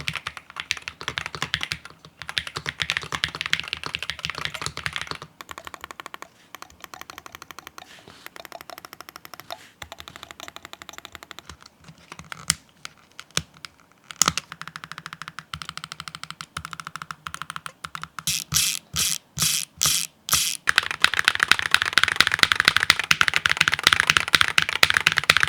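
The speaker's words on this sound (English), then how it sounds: "this keyboard has a pretty good sound to it to me" Typing on a gasket-mounted PCB keyboard with an aluminum top plate, a steady run of close, crisp keystrokes that pauses briefly in places and builds to a denser, louder flurry toward the end.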